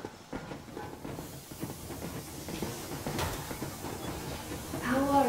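Steam locomotive train from the game Metro Exodus running in winter, a soft continuous rumble and hiss with faint rhythmic clatter, fairly quiet and steady throughout.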